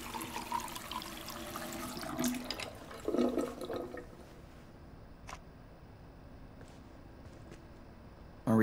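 A tap runs in Life Is Strange 2 with a soft, close stream of water that rushes for a few seconds, then fades to quiet with a few faint knocks.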